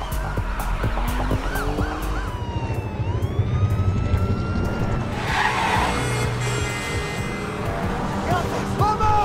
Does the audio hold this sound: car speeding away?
yes